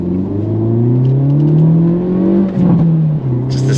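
A 2023 Hyundai Elantra N engine revs loudly while accelerating, rising in pitch through the gears with short breaks at the shifts, heard close and alone.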